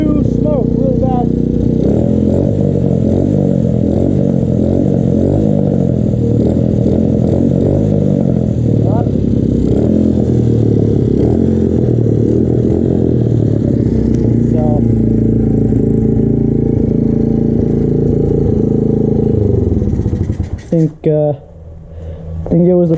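A rebuilt Honda XR/CRF 70 dirt bike engine, bored to 82cc and fitted with its stock carburetor, runs close up with a steady loud putter and some revving, then cuts off abruptly near the end.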